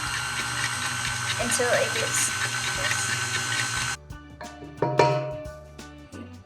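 A hand mixer beats cake batter in a kitchen with a steady whirring motor hum that cuts out abruptly partway through, followed by some clatter while a voice talks throughout.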